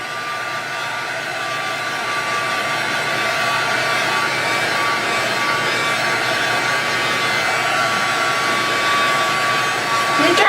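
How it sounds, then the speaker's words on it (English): A hair dryer runs steadily and loudly for about ten seconds at an even pitch, used to dry freshly painted paper flowers for a handmade card. "And I'm going to dry these flowers for a second."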